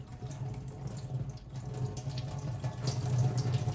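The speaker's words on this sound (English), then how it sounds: "You can directly put water from the tap." Tap water runs steadily into the outer chamber of a milk cooker, a continuous splashing rush that grows slightly louder as it fills.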